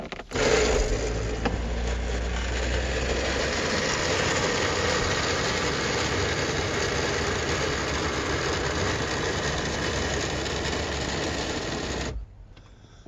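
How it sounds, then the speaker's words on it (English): Motors whir steadily as the power convertible top and windows of a 1993 Porsche 968 Cabriolet lower, a continuous mechanical hum with an engine-like drone underneath that runs about twelve seconds and then cuts off. "turn the ignition on and press the convertible top button here. And it'll actually lower the windows as well."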